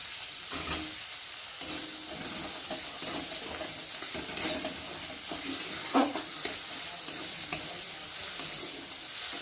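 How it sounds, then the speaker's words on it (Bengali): Spice paste of turmeric and chilli powder frying in hot oil and being stirred, a steady low sizzle with scattered scraping strokes and occasional soft knocks, fairly quiet, no voices. "মশলাটা ভালো করে তেলের মধ্যে ভেজে নেব"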